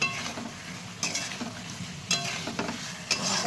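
Egg and potato curry stirred and sautéed in a pan, a soft steady sizzle broken by a few distinct spatula scrapes about once a second, close up.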